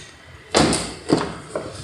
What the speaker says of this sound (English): See, this door is opening